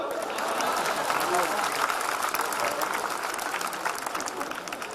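Audience applause at a Hindi hasya kavi comedy show, sustained steady clapping from a large crowd that fills the whole stretch evenly before easing slightly at the end.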